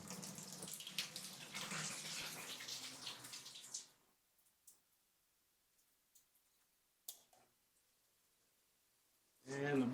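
Two shower heads run in a residential bathroom during a home inspection, a steady broadband spray of water that fills the first few seconds, then cuts off to near silence with a few faint clicks and a louder bump at the end.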